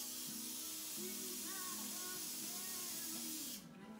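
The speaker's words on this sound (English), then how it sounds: "You're gonna get Lysoled." Lysol disinfectant aerosol sprayed in a steady, continuous hiss for about three and a half seconds before it cuts off abruptly, with a voice and music faintly underneath.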